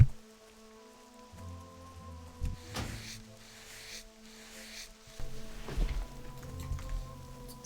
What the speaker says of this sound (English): I like that it's raining.